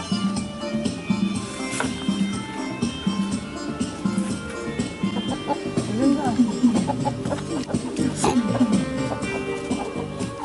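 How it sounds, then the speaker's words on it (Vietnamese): A flock of chickens clucks on a rural Vietnamese village homestead, with repeated close clucking calls amid background noise and someone speaking over them. "Rất là đẹp đàn gà."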